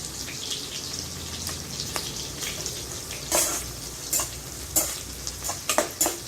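Tender jackfruit seed curry, village style, sizzling and frying in a pan while being stirred, with a steady hiss broken by sharp scraping strokes of the spoon that grow more frequent toward the end.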